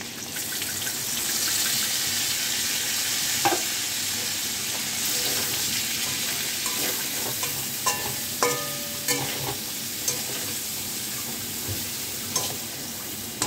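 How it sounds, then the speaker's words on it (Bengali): Spice paste added to hot tempering oil of crushed garam masala, cardamom, cinnamon and cloves for potato-cauliflower curry, a steady close sizzle with intermittent spoon scrapes and clicks. "ফোড়নটা ভাজা হয়ে গেলে মশলাটা দিয়ে দিচ্ছি।"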